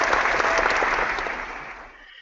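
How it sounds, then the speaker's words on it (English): Applause from a Rotary club audience, a dense wash of many hands clapping together that stays steady, then thins and fades out over the last half second. "So hit that applause."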